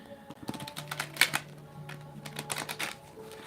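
Tarot cards being shuffled during a feminine-energy reading, a close run of soft riffling clicks and light papery snaps with one sharper flutter in the middle, steady and quiet throughout.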